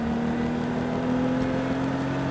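Car engine held at full throttle during a driving lesson, a steady loud droning whir with no break, no talking over it.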